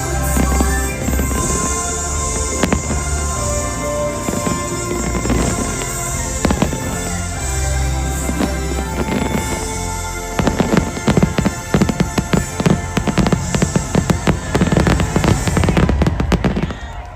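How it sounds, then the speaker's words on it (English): A Disneyland Resort fireworks show, Wondrous Journeys, at night: dense, continuous bursts and crackles over a low rumble and music, growing into rapid loud pops and booms toward the end. "Wondrous Journeys Fireworks"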